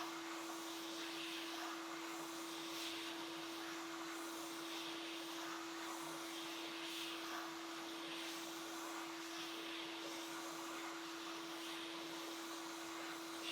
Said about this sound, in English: I'll heat on the bottom, just kind of going over both rows of pins. And then once the solder melts, the chip just lifts right out.